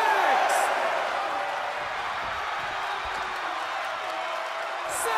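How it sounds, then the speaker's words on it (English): A packed arena crowd in the WWE 2K22 wrestling video game roars during a classic Bret Hart versus 123 Kid title match, a steady wash of cheering beneath a commentator's voice. "The sound of this crowd is deafening, and he's asking for more."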